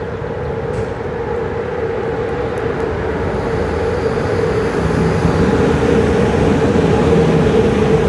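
IRN 15033 train hauled by the Delfinul 690 locomotive passing close by, a steady loud rumble of wheels and engine with a sustained hum throughout, no talking.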